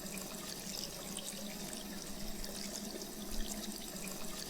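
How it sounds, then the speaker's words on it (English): A faucet runs in the game Rue Valley, a steady hissing stream of water splashing into a sink, close and continuous with small splashy fluctuations. "Then you see the water streaming under the tap"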